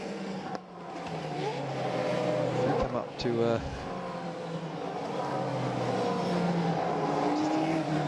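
Race car engines drone steadily at moderate pace behind the safety car at the Hungaroring, with a few brief revving bursts, while a commentator talks over the continuous motor noise.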